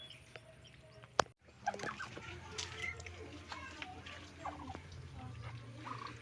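Domestic turkeys and ducks gobbling and calling at a moderate distance, mixed with background chatter and outdoor ambience.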